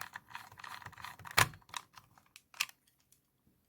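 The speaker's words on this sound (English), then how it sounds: "which means that it will click at every 360 degrees" Single-thread screw being driven into plastic, giving sparse, sharp close-up clicks at irregular intervals against near silence, one louder snap standing out among softer ticks.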